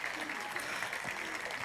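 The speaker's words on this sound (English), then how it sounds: "Give these a huge round of applause" Audience applause for a winning team at a FameLab International 2018 science communication event fills the whole moment, a dense steady wash of clapping from a room full of people.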